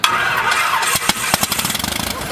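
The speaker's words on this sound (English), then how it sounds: "He's ready to start the engine." A light aircraft engine on an experimental Super Cub cranks and sputters with sharp irregular pops on its first start, then quickly settles into fast, rhythmic firing as it catches.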